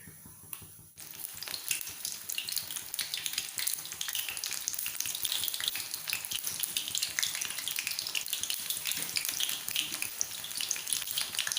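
Mushrooms fry in hot oil for mushroom Manchurian, a dense, constant crackling sizzle that holds steady and close throughout, with no voices over it.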